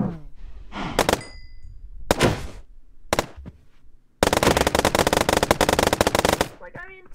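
A fire starter gun in a modded video game fires loud, rapid bursts: a few short shots, then a sustained fast rattling volley of roughly two seconds, heard close with no voice over it.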